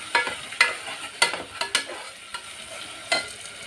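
Ground masala being stirred into a frying pan for a simple lunch, with a spoon scraping and knocking against the pan in a series of sharp, close strokes over a low sizzle, no talking.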